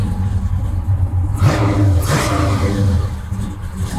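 A 1965 Chevy Malibu SS with a 502 V8 catches with a brief crank and erupts into a loud, deep, rumbling rev that sweeps up and settles back toward a lumpy idle, close by.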